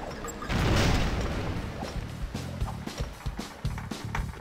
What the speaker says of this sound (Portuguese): Aquela explosão foi espetacular!